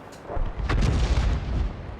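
A Churchill tank's gun fires in World of Tanks: a single heavy, booming shot that rolls out and fades over a couple of seconds.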